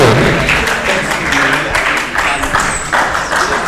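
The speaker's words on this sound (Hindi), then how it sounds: "जोरदार तालियों से स्वागत करें।" Audience applause at a school farewell ceremony, a steady broadband wash of many hands clapping that fills the whole stretch, fairly loud, with voices mixed in underneath.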